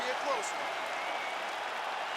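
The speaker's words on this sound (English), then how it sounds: "Stand and cheer, ladies and gentlemen." A virtual arena crowd in UFC 5 applauds and cheers after a full five-round fight, a broad, steady wash of clapping and crowd noise heard throughout, with a voice talking over it.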